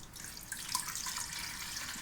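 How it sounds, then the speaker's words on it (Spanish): Warm water pours into the pan of a Lidl bread machine, a soft close trickle and splash running steadily for about two seconds. "Ponemos el agua tibia"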